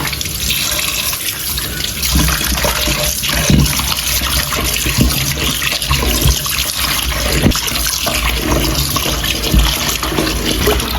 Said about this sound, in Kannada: ನೀರು ಪಾಡೋದು.